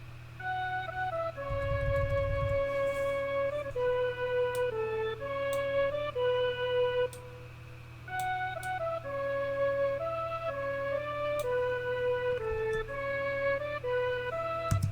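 A dry, sharp synth lead plays a stepping melody over a steady low bass drone, clear and upfront with no reverb tail.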